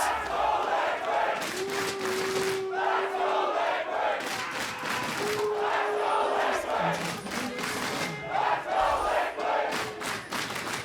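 Esports arena crowd at an LCS Spring Split upper bracket final cheering loudly for Team Liquid, a sustained roar of many voices with rhythmic chanting swells, steady and close throughout.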